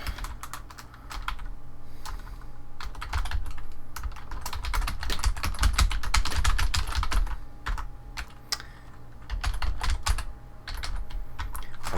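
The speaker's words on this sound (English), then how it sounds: "I'm going to put in my username and password here." Rapid clicky typing on a computer keyboard entering a username and password, a close, continuous patter of keystrokes with brief pauses, no talking.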